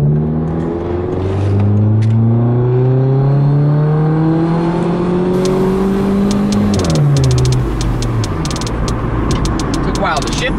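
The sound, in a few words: cold car engine revving and shifting gear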